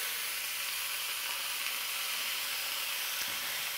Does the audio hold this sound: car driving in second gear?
no